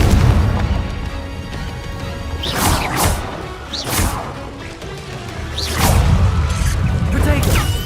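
Confringo spell blasts in Hogwarts Legacy land as several loud whooshing smashes at intervals over the rumble of combat, close and forceful, with a voice talking over parts of it.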